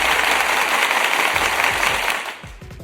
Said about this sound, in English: Another round of applause for my man Mind Junkies for that incredible video